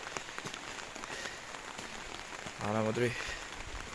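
Rain patters steadily outdoors in a rural area, a soft continuous hiss, with a brief voice speaking partway through.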